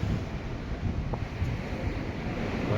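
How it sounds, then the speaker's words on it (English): Sea waves and strong wind on the open deck of a P&O Arvia cruise ship at sea, a steady rushing, buffeting roar with wind noise on the microphone and no voices. "Wildest of the waves."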